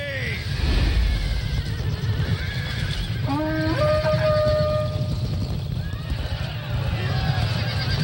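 Horses whinny during a battle in the video game Rome 2: Total War. A clear, rising neigh cuts through midway over a dense wash of combat noise and rumble, with voices in the mix.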